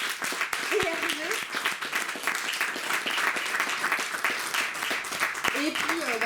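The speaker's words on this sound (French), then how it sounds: "Donc un tonnerre d'applaudissements pour Florence, Wilfried et Hervé." Dense, steady applause from a festival audience at a comics festival forum in Perros-Guirec, filling the whole stretch with brief voices or cheers rising above it.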